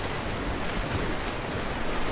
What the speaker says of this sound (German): Das Wasser steigt dadurch.